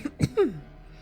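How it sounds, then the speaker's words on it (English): A single short, rough cough, quiet and close, followed by a brief throaty exhale. "How long have you had that cough?"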